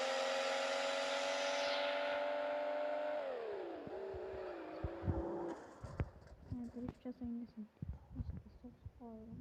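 Car engine in a car parking video game, a steady droning hum that drops in pitch and gives way to short uneven revs and clunks, heard under a voice talking.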